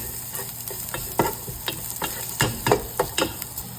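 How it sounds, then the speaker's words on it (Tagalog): Ginger sautéing in a pan as chicken sinigang is cooked, with a steady sizzle broken by quick scraping stir strokes that come faster toward the end, heard close with no talking. "Isayin lang natin mabuti hanggang sa lumabas ang aroma."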